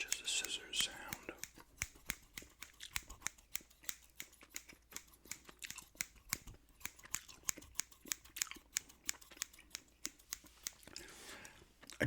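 Gum chewing right at the microphone, with wet, sticky clicks and smacks in a steady irregular rhythm, layered with soft whispering and some crinkly snipping sounds.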